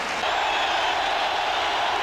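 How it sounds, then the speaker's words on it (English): A 1990 Raiders versus Seahawks football stadium crowd roars in a steady, loud, sustained wash of cheering and noise with no distinct breaks. "And the crowd reaction"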